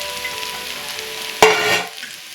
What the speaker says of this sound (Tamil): போட்டுட்டு கொஞ்சம் நல்லா வதக்கட்டும்